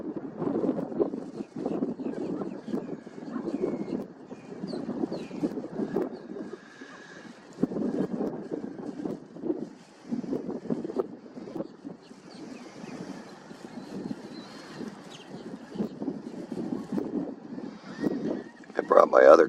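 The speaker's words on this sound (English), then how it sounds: "I wish it wasn't windy." Gusty wind buffets the microphone outdoors near a shoreline with islands in view, a steady low rumbling roar that swells and drops in surges across the whole stretch, with no clear voices over it.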